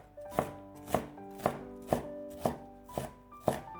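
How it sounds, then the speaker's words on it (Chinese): A knife dices a seeded green bell pepper on a cutting board, about eight crisp, evenly spaced chops that land roughly twice a second, close up and with no one talking. "再切成小丁。"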